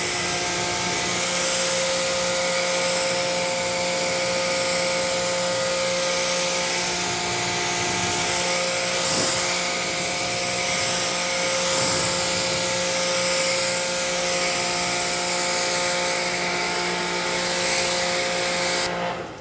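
A steady pressure-washer spray rinses waxed black car paint for nineteen seconds, a loud continuous hiss mixed with a motor hum. There is no speech.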